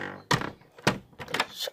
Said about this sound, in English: Close the door in here.